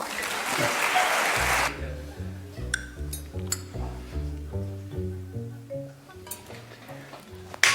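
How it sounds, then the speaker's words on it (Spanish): A short burst of applause from a crowd fades into a plinking, rhythmic melody with occasional bright clinks. "y por supuesto los aplausos"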